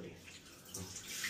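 Water runs from a hot water tap on a faulty household faucet. The stream is faint and steady, rising slightly toward the end.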